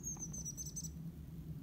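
A few faint, high chirps sound briefly over a low background hum, made by a person imitating a chickadee.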